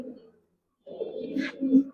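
A pair of old-breed Giribaz pigeons gives a low, throaty coo that starts after a brief pause and grows louder over two seconds, close by.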